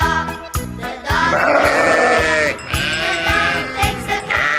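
Sheep bleating in a children's farm-animal song setting, several loud, wavering bleats in a row with a faint jingle of bells under them, close and clear with no talk.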